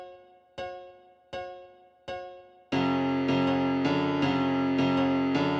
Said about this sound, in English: Then we have a second piano coming in, just playing these chords.